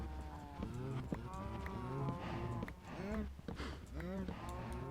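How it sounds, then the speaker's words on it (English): Minecraft cows moo repeatedly in short, close calls that overlap, with faint background clatter. "Cows, get out of my way."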